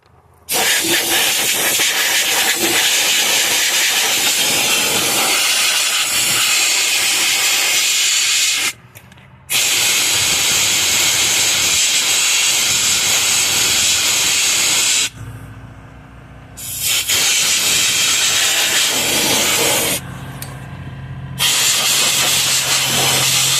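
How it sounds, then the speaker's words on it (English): Compressed air blasts steadily onto the pulleys of a Hemi engine, making a loud close hiss that runs almost continuously, broken by a few brief pauses. "But mainly gonna focus on the pulleys when I'm blowing with the compressed air."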